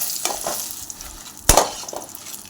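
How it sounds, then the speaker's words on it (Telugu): Garlic fries in a pan with a soft sizzle, broken by scraping stirs and one sharp clatter of a utensil midway. "ఇది బాగా దూరగా వేయించుకోవాలి ఈ విధంగా"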